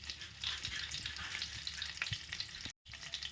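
Cardamom, cinnamon and bay leaf sizzling in hot butter for Afghani chicken, a close, continuous crackling hiss with a brief dropout near the end.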